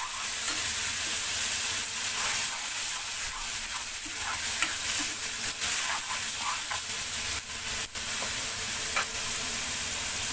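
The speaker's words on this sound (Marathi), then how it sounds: "कांदा आपला लालसर झालेला आहे। याच्यामध्ये टाकायचे टोमॅटो प्युरी" Tomato puree is stirred into onions frying in a pan for dhaba-style dum aloo, with a steady close sizzle and hiss broken by scraping stir strokes.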